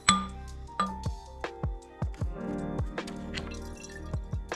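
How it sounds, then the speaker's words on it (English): Old varnished gasoline drains from a dirtbike tank into a bottle, giving a close series of glugging drips and liquid plops with small clinks, irregular but steady over several seconds. "Drain that into a bottle or something."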